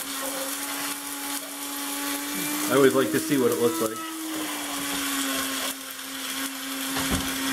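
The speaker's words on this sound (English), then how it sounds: "So what I did is we have this coffee grinder." A small electric coffee grinder whirs in a brief, rattling burst over a steady motor hum, while a person talks nearby.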